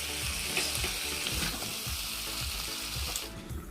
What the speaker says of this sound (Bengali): আগে থেকে সিদ্ধ করা কাঁঠালটা মাংসের সাথে ভালোভাবে কষিয়ে নিব